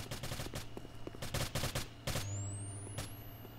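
Rapid bursts of automatic gunfire from a competitive tactical shooter match, dense volleys stuttering in quick clusters with a rising high whine near the end, loud and close.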